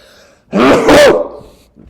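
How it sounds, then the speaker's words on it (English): A single loud sneeze bursts out of near silence, a sharp voiced blast that fades quickly, followed by a faint breath. "I gotta sneeze."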